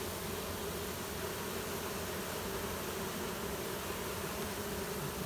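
Honey bees from a large colony living between vinyl siding and brick swarm around the entrance, a dense, steady buzzing hum that stays constant and close throughout.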